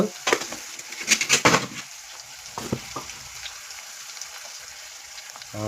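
Ground spice masala with turmeric, asafoetida, chilli powder and salt cooking in oil for egg curry, crackling in bursts with scraping stirs, then settling to a quieter sizzle.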